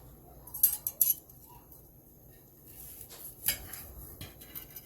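A knife and fork clink and scrape against a plate while a steak, cooked from frozen in a Ninja Foodi and crispy outside, is cut; a few sparse, quiet metallic taps come close up, with a faint hiss between them.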